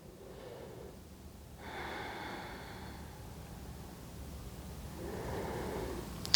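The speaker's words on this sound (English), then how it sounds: "Take maybe 2 more full breaths." Slow, full breaths drawn in and let out during a yoga gate pose, soft and close, two long airy swells with quiet gaps between them and no talk.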